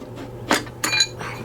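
A piston fitted with a Summit ring compressor is installed into the bore of a 500 cubic inch Trick Flow stroker engine, making a few sharp metallic clinks and taps close by.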